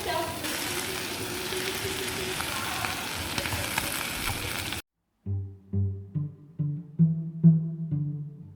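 Food sizzles and fries over a campfire inside a backcountry hut on a New Zealand hiking trail, a steady close hiss that cuts off halfway, followed by short tonal sounds.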